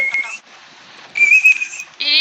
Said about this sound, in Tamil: ஏன்னா விசில் அடிக்கிறதே